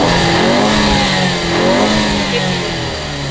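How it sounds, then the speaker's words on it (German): A Ford Focus ST MK3 engine revs steadily with rising and falling pitch, loud and close, with no talking over it. "Und wenn es jetzt Gas geben würde"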